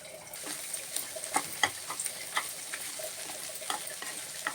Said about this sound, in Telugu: ఇదిగోండి కరివేపాకు ఉంది కదండి, దీంతో వేపిందాం.